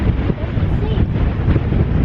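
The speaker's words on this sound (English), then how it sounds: "Bloody windy though" Strong wind on the Anglesey coast buffets the microphone in a constant low roar, loud and steady throughout with no clear talk above it.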